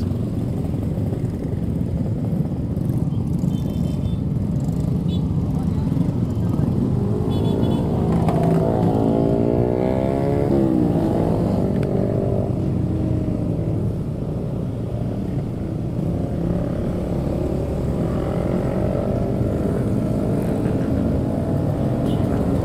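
A group of motorcycles accelerates together on a Sunday morning road ride, a dense, continuous engine roar close by, with one machine revving up and down partway through.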